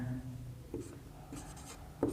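Marker or chalk strokes write a number on a board during a Vedic maths class, a few short, distinct scratches spaced through a quiet room with brief faint voice sounds.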